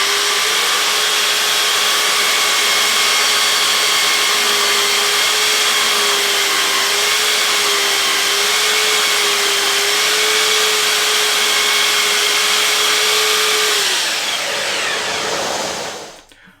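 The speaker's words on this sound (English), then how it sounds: "I'll start by taking a 10 millimeter slice off one end to give me a clean cut" A power saw runs loudly and steadily while cutting wooden coffee table legs to length, a sustained whining drone that winds down and fades at the end, with no talking.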